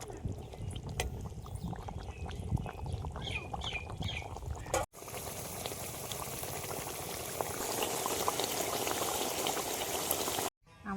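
Rohu fish pieces simmering in a boiling curry gravy for rui fish kalia, a steady close bubbling and hissing that grows denser after a brief gap, with no talk.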